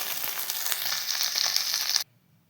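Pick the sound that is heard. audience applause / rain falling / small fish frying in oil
small fish frying in oil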